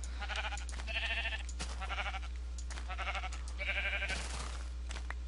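Repeated sheep bleats from Minecraft with the Aether mod, several wavering calls in short bursts over steady game background hum, fairly close and clear.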